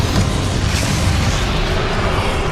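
A Bombarda explosion spell in the video game Hogwarts Legacy gives a loud, dense rumbling burst that fills the whole short stretch with heavy noise and no clear pauses.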